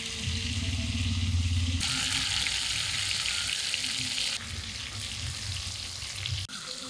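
Potatoes frying in mustard oil in a kadai sizzle steadily and close up, with bursts of brighter crackle and a low hum underneath; no voices.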